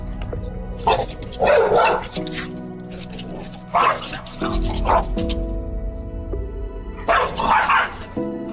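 Several bursts of dog barking and yips mixed with excited human shouting, loud and close, coming in three clusters over a steady low rumble.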